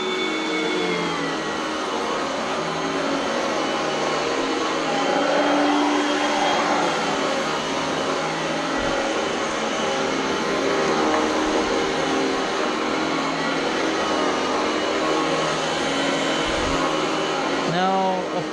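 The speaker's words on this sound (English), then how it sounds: "it's not the motor that's making that sound, it's the brushes just hitting against the floor" An Oreck Elevate Conquer upright vacuum cleaner from 2019 runs continuously on low as its brushes beat against the floor, giving a loud, close, steady whirring drone with a couple of brief thumps near the end.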